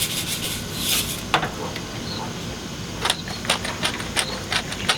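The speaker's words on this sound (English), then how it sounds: "Rub the oil in real nice. Add the salt so it sticks." Hands rub oil and salt onto squash for grilling, a steady close scraping and rubbing texture with light taps and rustles scattered through.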